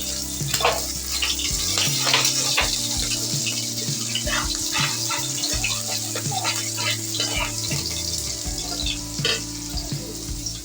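Chopped garlic and green chili sizzling in hot oil for a mixed vegetable dish: a continuous loud crackling fry with spattering pops, close up, over low background rumble and occasional clinks.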